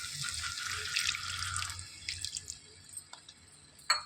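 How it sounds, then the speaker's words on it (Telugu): A small glass of water is poured into a pan while cooking egg pepper roast: a quiet, close splashing pour for about two seconds, then a few faint drips and a light clink. "ఇందులోనికి కొద్దిగా వాటర్ యాడ్ చేసుకోవాలి."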